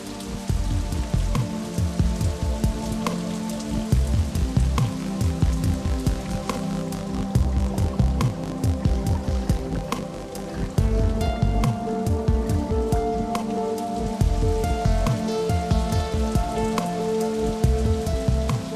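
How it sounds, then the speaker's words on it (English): Steady, dense tropical rain shower pours down on a remote Pacific island, a loud continuous hiss of drops drumming on surfaces with a low rumbling undertone, no voices. "we're welcomed with a tropical rain shower"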